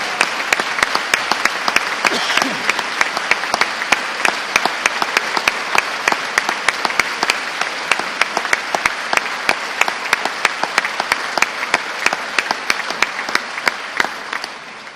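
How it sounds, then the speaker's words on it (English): Sustained applause from an audience at a State of the State address in Missouri, dense steady clapping filling the hall, loud and continuous with no talk. "all our Missouri educators a round of applause"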